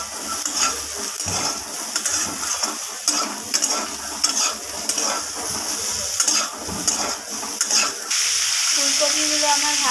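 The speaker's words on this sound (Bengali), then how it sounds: "লবণ আর হলুদটাকে আমি ফুলকপির সাথে মিশিয়ে ভালোভাবে ভেজে নেব।" Cauliflower with salt and turmeric fries in a pan, a close sizzle broken by repeated scraping and stirring knocks of a utensil against the pan, ending in a louder, steadier hiss.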